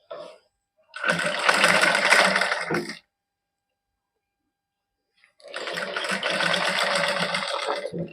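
A sewing machine stitching lace onto a suit, two steady whirring runs of a couple of seconds each, close and loud, separated by a pause of silence.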